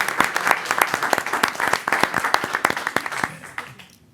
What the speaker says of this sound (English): he deserves a nice round of applause.